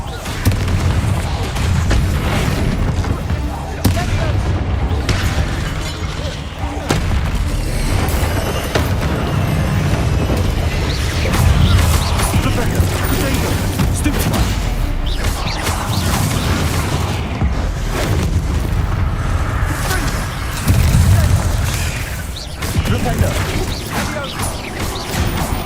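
Repeated Confringo blast spells explode in the Hogwarts Legacy video game, a long stretch of loud booms, crashes and crackling impacts in irregular succession over a dense, continuous game soundscape.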